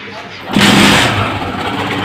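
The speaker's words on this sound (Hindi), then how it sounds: "और दोस्तों इसको भी स्टार्ट करेंगे बाइक को और इसका साउंड भी चेक करेंगे।" Honda CG125 motorcycle starting up: quiet lead-in, then the engine catches abruptly and settles into a loud, steady close idle with a brief rev.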